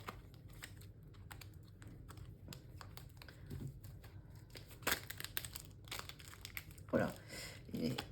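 Tarot cards are shuffled by hand, a quiet run of rapid crisp riffles and flicks with louder card snaps near the end, alongside faint speech.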